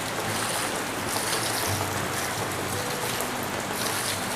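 Water pours and splashes in a steady, broad hiss onto coarse, damp compost made from water hyacinth and banana stems, heard up close and continuously.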